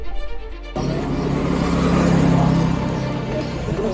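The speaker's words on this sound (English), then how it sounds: "So here we go, my first ride on a Royal Enfield Bullet" A 2024 Royal Enfield Bullet 350 single-cylinder motorcycle engine runs steadily at close range, loud and continuous after an abrupt start, with a faint voice at the very beginning.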